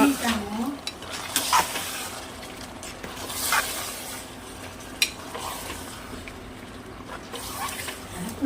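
Food sautés in hot oil after curd is poured in, a continuous sizzle overlaid with the scrape and clink of a spoon stirring in the pan, close and moderately loud throughout.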